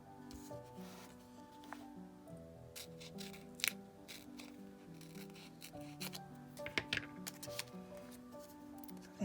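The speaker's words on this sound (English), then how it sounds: "I'm going to cut out the elements that I want to use" Scissors snip through paper-backed washi tape, quiet crisp cuts and rustles coming in irregular bursts at close range, with soft handling sounds between them.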